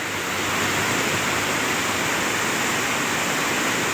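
A loud, steady roar of a river rushing through a gorge in Colombia where two rivers meet, swollen by rain, fills the whole stretch, broad and continuous with no pauses or voices.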